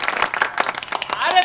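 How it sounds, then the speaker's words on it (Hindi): An audience at an LIC (Life Insurance Corporation of India) presentation applauds with a brisk, uneven patter of many hands, while a voice begins speaking over the clapping near the end. "अरे तालियां रोकिए, तालियां आगे के लिए बचा कर रखिए"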